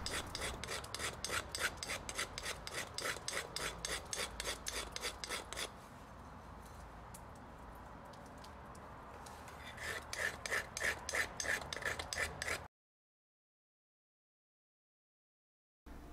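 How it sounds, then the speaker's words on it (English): Steady, rhythmic rasping strokes of a carbon steel file taking excess metal off a cast aluminum knife, close and loud. The strokes pause midway, resume, then cut off into silence. "Taking a carbon steel file, all you gotta do is just work the excess off there"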